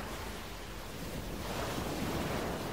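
Ocean waves washing onto a shore, a continuous broad rushing surf that swells slightly louder toward the end, with wind-like hiss and no voices.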